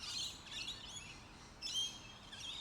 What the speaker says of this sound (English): It's here you'll find some smaller birds, like this grey fantail.